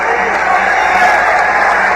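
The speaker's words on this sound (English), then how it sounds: "Bennie Briscoe deserves all of the applause you're hearing here and more" A boxing arena crowd applauds loudly and steadily after a hard-fought bout, a dense, continuous wash of clapping that fills the hall from start to finish.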